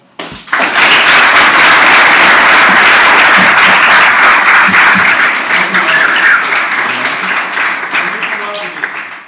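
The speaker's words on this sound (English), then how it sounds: "A big round of applause to Rick for some great moderation." An audience applauds after a discussion following a film screening, with loud, dense clapping that starts abruptly, stays sustained for several seconds and then slowly thins out, with some voices mixed in.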